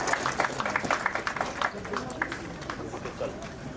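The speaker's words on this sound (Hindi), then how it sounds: "तालियां हो आपकी तरफ से।" Audience clapping at a police passing out parade for IRB battalions at a training centre, a steady crowd applause running throughout with a voice on a loudspeaker talking over it.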